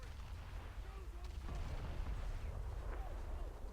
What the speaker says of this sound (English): Fire the main caliber cannons.